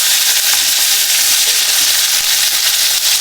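Tomatoes fry in hot oil in a pan with curry leaves and green chillies for a Tamil fish curry, giving a loud, dense, continuous sizzle and hiss close up.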